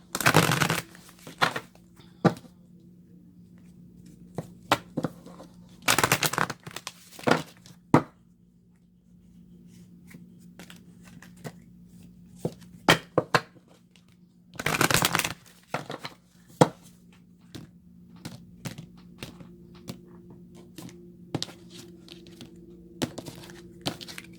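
Oracle cards shuffled close up in several loud riffling bursts separated by scattered taps and clicks, with a faint steady hum underneath.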